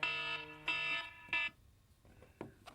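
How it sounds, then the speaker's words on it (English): A harsh electronic alarm blares in three loud, evenly spaced beeps, then falls quiet, followed by faint knocks and movement nearby. "I forgot to reset the alarm. That's obnoxious."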